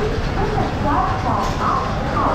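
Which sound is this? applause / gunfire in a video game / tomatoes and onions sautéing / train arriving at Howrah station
train arriving at Howrah station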